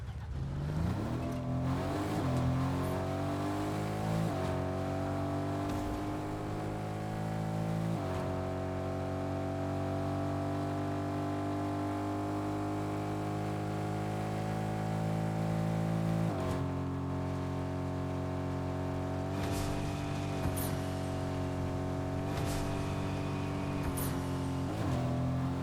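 A truck engine in Fortnite drones steadily and loud, revving up at the start then holding a sustained pitch with a few shifts, close and alone with no voices.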